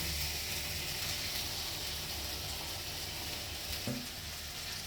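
Desi country mushroom masala fries in oil in a pan, a dense, continuous close sizzle and crackle holding steady throughout, with a faint scrape of a spoon near the end.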